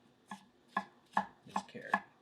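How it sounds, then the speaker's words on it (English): A thin Japanese gyuto knife push-cutting through a carrot on a board, five crisp evenly spaced cuts, close and fairly quiet, each a short crunchy tap against the board. "This knife, it's very thin, so it just glides right through this carrot."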